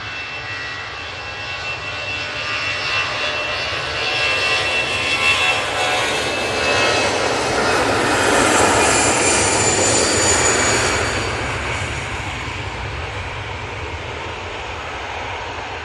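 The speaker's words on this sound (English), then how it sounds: "Easyjet A320 off to Berlin." An easyJet Airbus A320 jet takes off, its engine roar swelling to a peak midway and then slowly fading while it stays loud and continuous.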